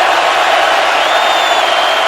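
A packed football stadium crowd roars in a steady, dense wash of noise at an NFL game between the 49ers and Seahawks in Seattle, loud and continuous without a break.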